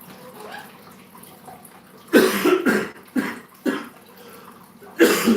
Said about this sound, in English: That's just a cough.